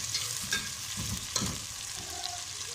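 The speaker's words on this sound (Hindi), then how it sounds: "अंदर हमें सबसे पहले प्याज फ्राई करने हैं" Onions frying in a pot for biryani, a steady broadband sizzle with intermittent scraping stirs, close and continuous with no voices.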